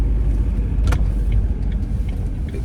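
A car driving on the way to pick up building materials for a basement renovation, a steady low road rumble and engine drone filling the whole stretch without any talk.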